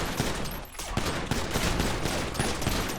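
Dense bursts of automatic gunfire in a GTA V roleplay shootout, loud rapid cracks layered into a continuous fusillade throughout.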